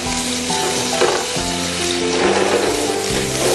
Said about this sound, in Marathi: आता परतून घ्यायचा कांदा.